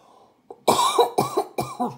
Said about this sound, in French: Excusez-moi pour la toux cette saison.